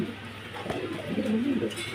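A male pigeon coos close by in a short, soft, throaty rolling call that rises and wavers near the end, heard over faint background noise.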